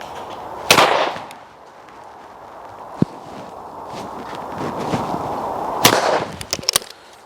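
Two sharp, loud shotgun blasts from a Beretta MK38 at a clay-target range, spaced several seconds apart, each with a short decaying tail over outdoor background noise and a faint click in between.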